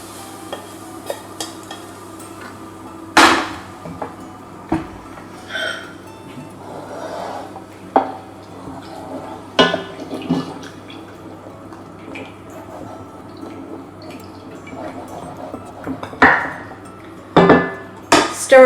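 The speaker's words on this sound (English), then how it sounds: "Stir it all together" Lamb tagine ingredients stirred together in a casserole pot, with scattered clinks and scrapes of a spoon against the pot and soft wet stirring over a low background hum.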